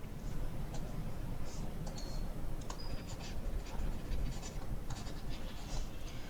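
A pen scratches out SQL code by hand, continuous close scratchy writing strokes with small ticks and taps, steady and fairly quiet, with no voice.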